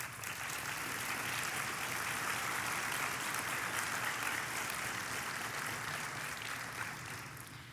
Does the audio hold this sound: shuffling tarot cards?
no